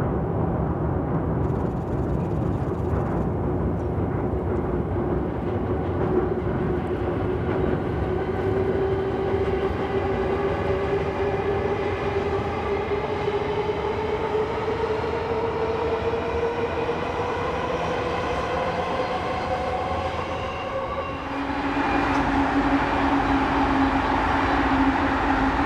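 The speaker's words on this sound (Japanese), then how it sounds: "長大な橋梁を長大な12両編成の特急が通過。" A long 12-car limited express train rumbles steadily across a long railway bridge, a continuous loud roar with rising tonal whine and rhythmic wheel clatter, the pitch shifting near the end as it passes close.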